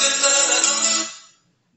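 A mobile phone rings from Find My Device's play-sound feature, a bright tonal ringtone heard alone, loud and sustained for about a second before fading out.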